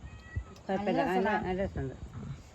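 A cat gives one loud, drawn-out meow up close, followed by a shorter, fainter mew.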